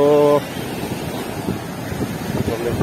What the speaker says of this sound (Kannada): ಒಳ್ಳೆ ಜೋರ್ ಅಲೆಗಳಿವೆ